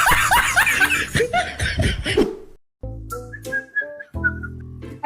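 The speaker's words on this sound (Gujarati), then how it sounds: "આ ક્યાંથી આવો છો સીટી વગાડતા વગાડતા?" Laughter and snickering come first, then a person arriving whistles a short, wavering tune, clear and fairly close.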